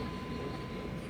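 Train pulling into Kadapa railway station in the early morning, a steady, moderately loud rumble of rail cars rolling along the track with a faint constant tone running through it.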